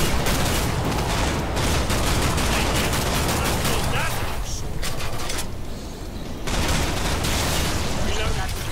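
A powerful gun in the zombie shooter Killing Floor 2 fires in rapid, loud bursts. Dense, near-continuous shots roll on with a short lull partway through, and voices sound faintly under the gunfire.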